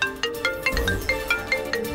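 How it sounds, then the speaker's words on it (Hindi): A mobile phone rings with a bright, repeating electronic melody, its short tonal bursts pulsing evenly and steadily throughout, with no voices over it. "तुम्हारा फोन बज रहा है।"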